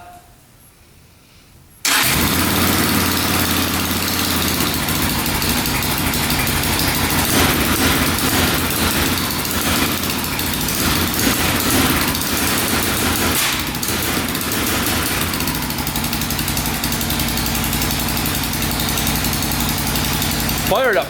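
The engine of a quad ATV, choke on, fires up abruptly after a short quiet stretch and holds a loud, steady, buzzing idle close by for the rest of the clip, with little change in pitch.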